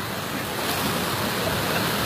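Fast-flowing water rushes along a canal as a dense, constant broadband roar, close and steady with no voices heard.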